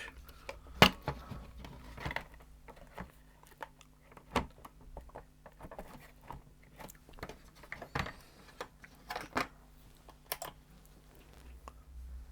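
Keys clatter on a Tandy Color Computer 2 keyboard in a quiet room, a series of separate clicks and short bursts over a steady low hum, with no talking.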